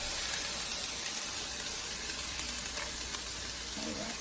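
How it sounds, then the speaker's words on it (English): Diced onions sizzle in a lightly oiled pan, a steady close hiss that runs the whole time with no talk over it. "Then we are going to add in our diced onions that we cut."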